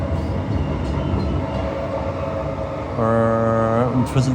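A train rushes steadily through Midland station at full speed with a loud rumbling roar, then a long horn blast sounds near the end, close and loud.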